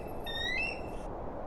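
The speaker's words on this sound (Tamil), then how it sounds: "அழகான குருவிகள் சத்தம்லாம் கேட்குது." Small birds chirp outdoors among trees, a few faint high whistling calls in the first second over a soft steady background, with no talking.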